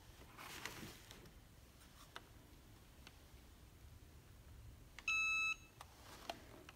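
An Easy Press heat press timer gives one short electronic beep burst, a bright steady tone lasting about half a second, against a quiet room with faint rustling.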